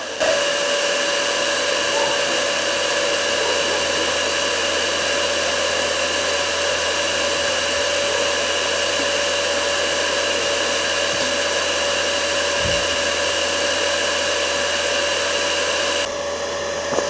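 A cooler fan runs on a homemade smokehouse for cold-smoking fish, giving a steady, close, continuous whirring hum with no break and no voices.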